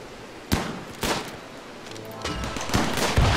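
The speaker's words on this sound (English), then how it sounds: "Open fire, guys." Gunfire in the colony-survival video game Rimworld: a string of loud, sharp shots at irregular intervals, with the pace quickening and the shots building toward the end.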